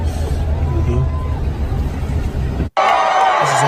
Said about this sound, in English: Wow, huge crowd.